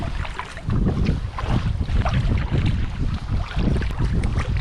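Wind gusting over open water while kayaking on a skills day, a steady broadband rush with rising and falling buffets throughout.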